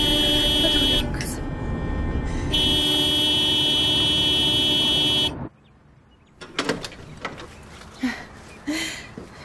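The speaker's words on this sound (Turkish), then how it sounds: "Kesintisiz kornaya basabilir miyiz acaba?" A car horn blares continuously for several seconds, loud and steady, then cuts off, leaving quieter scattered sounds and movement.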